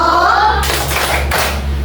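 Children in a classroom doing a rhythmic clapping cheer: a few sharp, close hand claps in quick sequence over a low steady hum, with some voices mixed in.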